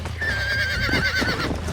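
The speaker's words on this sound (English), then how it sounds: "Segura que o cavalo é brabo." A horse in the Red Dead Redemption video game lets out a shrill, wavering neigh close up, over a low steady rumble and some hoof clatter.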